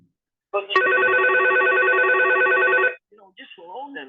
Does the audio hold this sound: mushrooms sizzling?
no